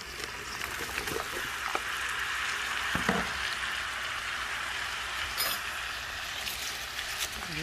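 Chopped onions frying in melted butter in a pot, cooking down for French onion soup, give a steady close hiss of sizzling with a few faint clinks of a utensil against the pot.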